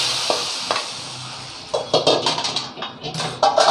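Hot, darkened tempering is poured into a dry croaker fish gravy in a clay mud pot, setting off a burst of crackling sizzle and spluttering after a quieter opening.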